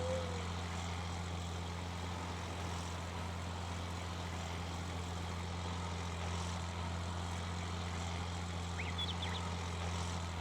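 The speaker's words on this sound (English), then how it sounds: "Old school John Deere articulated tractor." An old-school John Deere 8440 articulated tractor in Farming Simulator 19, its engine holding a steady low droning hum at constant pitch, moderately quiet and continuous with no talk.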